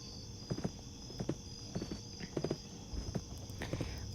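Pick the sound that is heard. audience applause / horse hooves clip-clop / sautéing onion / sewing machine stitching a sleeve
horse hooves clip-clop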